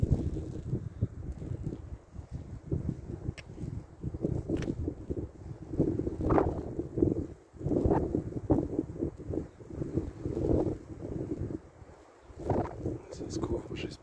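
Strong, cold gusty wind buffets the microphone in rough, rumbling bursts on a hiking trail near Le Pont-de-Montvert, France, while a person talks intermittently underneath.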